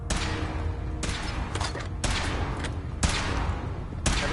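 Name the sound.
weapon firing in Fallout 4 video game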